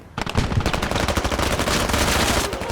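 Sustained automatic gunfire in the military shooter Squad, a dense, loud, close burst of rapid shots lasting a couple of seconds, with no voices.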